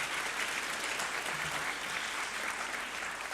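A large audience applauds at the opening plenary session of the BIMCO 2025 congress. The clapping is dense and steady, filling the hall from start to finish without breaks.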